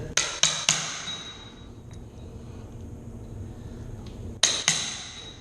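Sharp metallic hammer strikes: three quick ringing hits, a pause with faint background, then two more close together near the end.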